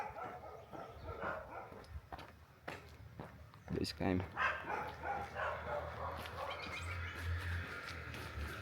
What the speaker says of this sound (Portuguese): Falei que tem uns cachorros ali também